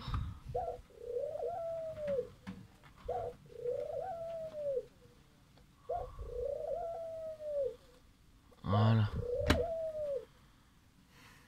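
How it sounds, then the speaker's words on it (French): Turtle doves coo in repeated soft, rising-and-falling phrases, four calls spaced a couple of seconds apart, close by, with a brief rustle near the end. "Donc voilà pour les petites tourterelles."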